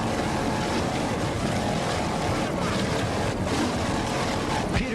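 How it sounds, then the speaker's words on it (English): A powerboat race boat engine roars steadily at close range as the throttles are worked in and out over the waves, under wind and water noise during a race in the Florida Keys. "You can just hear him work those throttles in and out of the water right now"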